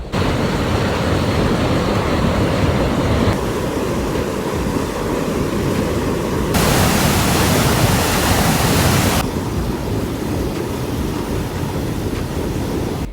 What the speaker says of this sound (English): There's a little waterfall and I'm excited about it.